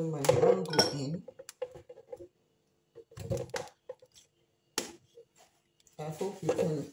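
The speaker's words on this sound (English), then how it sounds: "Pouring my mango in." Mango pieces are poured into a blender jar while making a smoothie, giving quiet, scattered clinks and taps in short bursts separated by silence.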